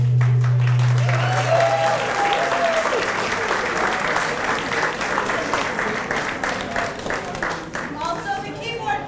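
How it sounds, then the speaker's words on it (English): A Juneteenth celebration crowd in Granby applauds for several seconds, dense clapping that gradually thins and fades, with a low sustained tone at the start and faint voices underneath. "let's have one more round of applause"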